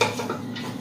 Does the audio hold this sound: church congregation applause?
no